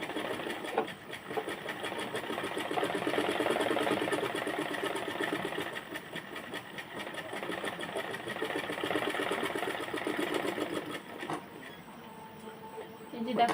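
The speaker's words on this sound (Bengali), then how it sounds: "আমি এটা ডাবল স্টিচ দিব, যাতে করে খুলে না যায়," A sewing machine double-stitches the seam of a salwar in a steady, rapid mechanical whir that runs almost without a break, then eases into quieter, lighter stitching near the end.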